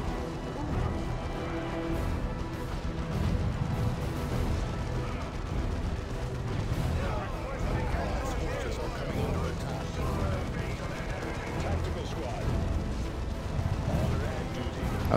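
Cannon and artillery fire from the strategy video game Dawn of War II: Chaos Rising, a dense, continuous barrage of booms and crashes that stays steady and loud throughout, with talk over the battle.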